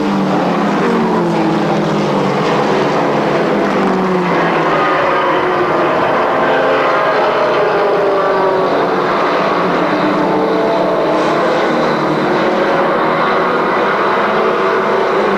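Mini stock race cars roar around a track in a 2002 race, their engines a dense, continuous drone with pitch sweeping as the pack passes through the turns.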